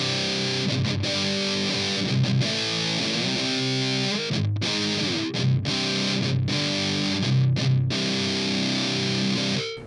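Electric guitar played through a Digitech DF-7 Distortion Factory pedal, heavily distorted chords and sustained notes with short pauses between strummed phrases, loud and alone with no talk.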